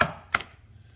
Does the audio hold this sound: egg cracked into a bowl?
yes